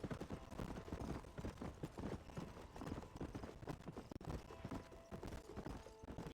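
Horse hooves clip-clop steadily at a trotting pace in the Red Dead Redemption video game, a dense, continuous rhythmic clatter with faint game background, no speech.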